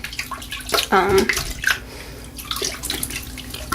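Water splashing and sloshing in a bathtub during hand washing of wool garments, a brief louder slosh in the middle with quieter dripping and rinsing around it.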